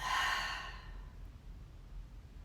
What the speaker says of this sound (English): One more deep breath in through the nose. Exhale it out the mouth.